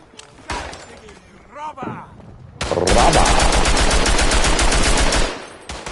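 Sustained rapid machine gun fire in the WW1 video game Tannenberg, loud and close, a dense burst running for several seconds after a quieter stretch with someone talking.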